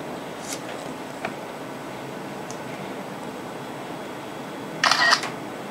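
A Sony NEX-5 camera firing its shutter with no lens attached, a single crisp double-click near the end after faint handling clicks over a steady room hiss.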